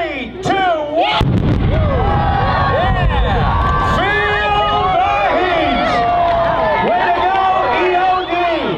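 Wall-of-fire pyrotechnic explosions set off by an explosive ordnance disposal team at an airshow finale: a loud blast, then a sustained roar under a cheering, whooping crowd.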